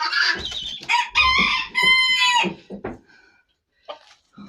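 A rooster crows loudly and close by amid clucking chickens in a village yard, the calls rising in a long strained crow and then trailing off into sparse, quieter clucks.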